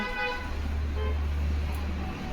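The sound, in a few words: car horns honking in traffic outside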